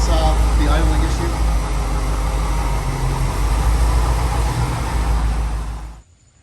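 A car engine idles unevenly with a possible vacuum leak, a steady low mechanical hum and drone running close and loud for about six seconds before cutting off abruptly.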